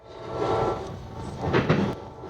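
A train from a film rushes past in a loud, steady roar with rattling swells near the end, heard alone without talk.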